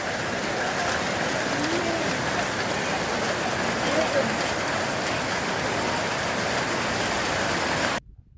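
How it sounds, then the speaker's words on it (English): Hailstorm on the Mardi Himal trek in Nepal, a dense, steady hiss of hailstones pelting the ground for about eight seconds before cutting off abruptly. "Here's another possible feature you may come across, a hailstorm."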